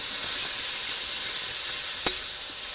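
A ginger, garlic and cumin paste is stirred into meat frying in a pan for a meat and mushroom dish. A continuous close hiss and sizzle carries on evenly, broken once by a single sharp utensil tap, with no voices.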